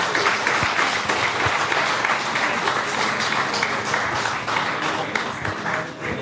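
Louder audience applause for a speaker fills a business forum cultural program hall, a continuous dense roar of clapping that holds steady before tapering slightly at the end.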